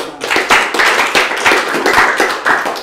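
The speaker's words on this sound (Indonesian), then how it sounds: "Tepuk tangan." Steady rhythmic hand clapping, a handful of people clapping close by in even beats at an IPDN drum corps session.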